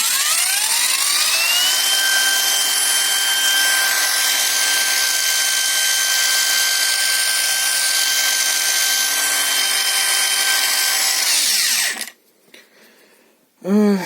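Parkside Performance PWSAP 20 LI A1 brushless driver spins up with a rising whine, holds a loud, steady high-pitched hum for about ten seconds, then cuts off and winds down briefly.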